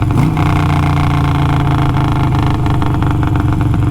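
A Harley Sportster motorcycle engine runs loud and close at the start of a ride, a steady deep rumble with a slight rise in revs early on.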